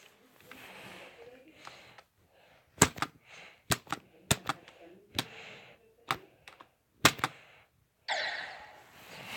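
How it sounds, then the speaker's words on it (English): Typing on a computer keyboard, sharp isolated key clacks in an irregular rhythm, loud and close, with speech in between. "You hear this keyboard, though?"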